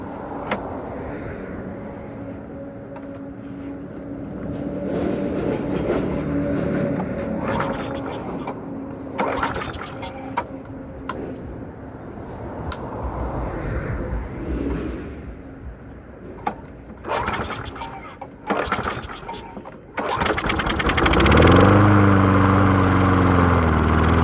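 Small lawn mower engine being cranked after a spray of carb cleaner, with repeated scraping pull-start strokes and brief mechanical noise, ending in a louder burst of engine sputter that fails to settle into running.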